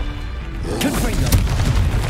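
A Confringo fire spell explodes in the video game Hogwarts Legacy, a single heavy boom that swells after a moment and rumbles on, with a voice speaking over it.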